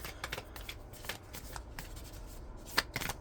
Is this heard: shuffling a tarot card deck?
yes